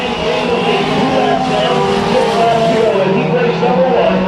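Race cars roar around a Bakersfield Speedway oval in a heat race, engines droning loud and steady with a faint tire noise, under an announcer's continuous commentary.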